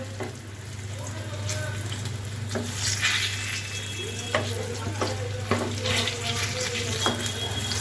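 Eggplant slices sizzle steadily as they fry in a pan, with a low hum underneath and occasional scraping and clinking of a utensil.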